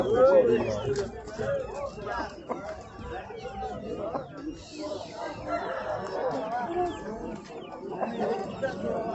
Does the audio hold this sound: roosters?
yes